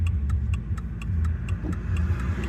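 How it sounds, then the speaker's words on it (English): Cars pass on a country road, a steady low engine rumble near the listener, with a regular ticking like a turn signal running over it the whole time. "As soon as these cars come by, I'll be able to get out of here."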